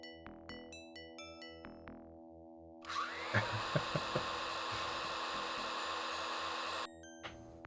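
A portable vacuum cleaner in the video game Flight of the Amazon Queen starts up and whirs as a loud, steady drone for about four seconds, then cuts off abruptly between short musical notes.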